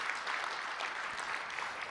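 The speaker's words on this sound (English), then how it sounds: "Give them a big round of applause." An audience at a live event applauding, with steady, dense clapping that holds at an even level throughout and fades slightly at the end, with no voices over it.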